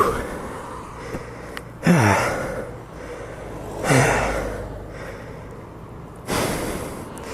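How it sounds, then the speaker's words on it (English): Heavy, ragged breathing from a rider just after crashing a Yamaha FZ1 motorcycle: three loud gasping inhales at roughly two-second intervals, close to the microphone, with no words spoken. "Amazing the heavy breathing"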